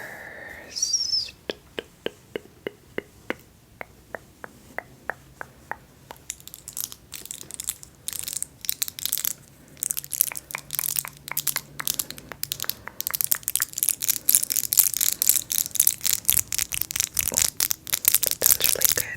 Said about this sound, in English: Let's do the big feather brush